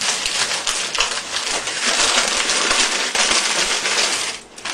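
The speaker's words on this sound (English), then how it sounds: "Unwrap my stupid paper bag." A paper bag is unwrapped during a coin magic trick, giving steady, loud crinkling and rustling close up with no break for the whole stretch.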